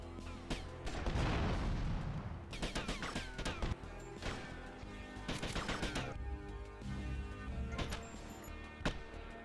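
Explosions and crashes from GTA Vice City as cars blow up, loud bursts with rumbling booms and debris clatter around 1, 3, 4, 5.5 and 8 seconds over a continuous game soundscape.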